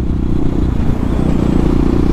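Aprilia SXV 550 supermoto with a 77-degree V-twin engine of about 70 horsepower, running steadily with a loud, dense low rumble and some mechanical clatter throughout, with no talk.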